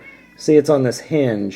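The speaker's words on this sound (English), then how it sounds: "And if you heard what sounded like a cat, that was my cat." A house cat meows twice close by, short and tonal, overlapping a voice as he talks.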